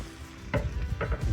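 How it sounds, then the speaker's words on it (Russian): Carrots hit a hot pan and start frying for a meat filling, a sudden close sizzle with stirring scrapes that keeps crackling to the end. "И добавляем морковочку тоже обжариваться."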